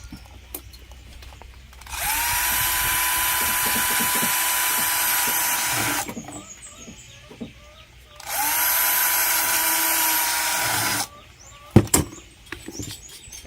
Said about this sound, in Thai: หลังจากนั้นเราก็ต้องใช้สว่านเจาะเพื่อนำร่องครับ